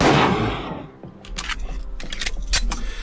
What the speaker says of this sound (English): I did just take that guy out with a single pistol shot